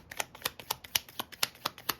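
Quick, crisp flicks of tarot cards being shuffled, a rapid regular patter of light slaps, close up and fairly soft, with no voices.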